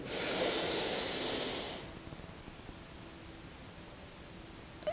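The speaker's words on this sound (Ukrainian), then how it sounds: "намагайтесь якомога глибше вдихнути" One long, deep breath drawn in audibly and close, a breathy rush lasting under two seconds, followed by near quiet.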